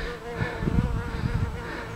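A bee buzzing around garden plant pots, its drone rising and falling as it moves close to the listener, loud and wavering over the whole stretch with no talk.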